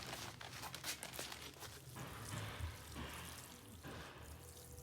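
Water poured from an old-fashioned pot onto relocated climbing roses, a steady close splashing and trickling over soil and leaves for several seconds, with soft crinkling of foliage mixed in.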